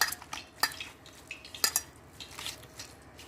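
Chicken pieces, about half a kilo, are worked together with cornflour in a bowl, giving soft wet squelches and faint clinks of a spoon against the dish, quiet and close with no talking.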